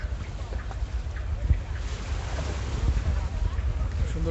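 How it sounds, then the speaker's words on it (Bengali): From a gently rocking trawler, the MV Farhan 9 passenger launch passes with a continuous low engine rumble under heavy wind buffeting on the microphone, with faint knocks throughout. "আমি এখন ট্রলারের উপরে, ট্রলারটা খুব সুন্দর করে দুলতেছে। যে এখানে লঞ্চ যাচ্ছে এমভি ফারহান 9"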